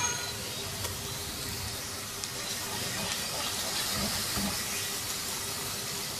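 Garlic ginger paste hits hot oil with softened onions in a pan, a steady, close, full hiss of sizzling frying that holds evenly throughout.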